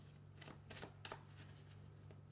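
Oracle cards are shuffled softly close by, a quiet papery riffling with several light flicks and slaps, no voice over it.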